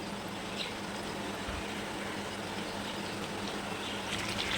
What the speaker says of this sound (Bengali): গ্যাসের ফ্লেমটা মিডিয়াম টু লোয়ে রেখে আমি এইগুলোকে ভেজে নেব